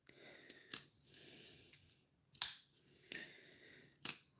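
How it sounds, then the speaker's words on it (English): Skateboard grip tape cut by hand with a blade, three sharp close snips with rasping scrapes and tearing in between, quiet pauses separating them. "Use your Demco to cut grip."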